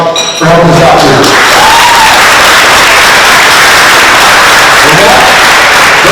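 Audience applause for the sponsors at a Burns Night literary event, loud and sustained for about six seconds as a dense wash of clapping, with a brief voice near the start.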